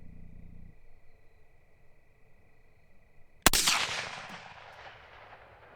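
A single sharp, loud gunshot from a pistol fitted with a Votatu M9L-G laser light cracks midway through an outdoor range at 36 yards, followed by a decaying echo after a quiet stretch with faint insect hum.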